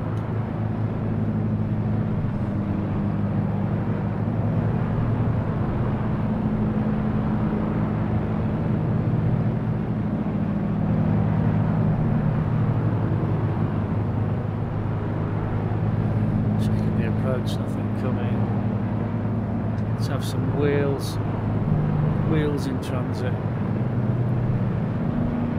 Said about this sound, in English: Would greatly enjoy seeing the Lancaster going round and round in the circuit here.